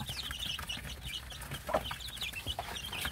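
Black Korean native chicken chicks, six or seven of them among a brood of nine, cheep and peep in quick, high chirps close by, with clucking from the flock mixed in and no speech.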